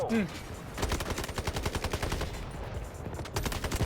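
Rapid automatic fire from an M7 rifle in the video game Delta Force, a dense stream of loud close shots running almost the whole time, with game effects and a voice briefly over it.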